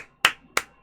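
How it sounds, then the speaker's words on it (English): Three crisp hand claps ring out close and loud, evenly spaced about a third of a second apart with quiet between them. "Oh, clap for that one."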